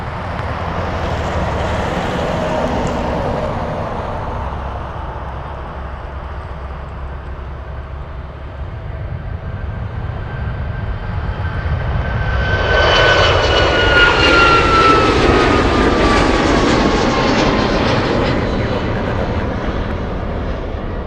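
Alaska Airlines jet taking off from runway 33 at Anchorage airport, a loud roar of engines building and swelling as the aircraft races down the runway, steady and sustained throughout.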